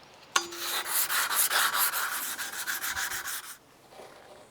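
Fine 220-grit sandpaper rubs a stainless steel utility blade in close, steady back-and-forth strokes, beginning with a sharp scrape and running for about three seconds before stopping.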